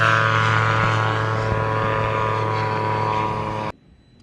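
A single-seat gyroplane's two-stroke engine drones loud and steady up close before cutting off abruptly.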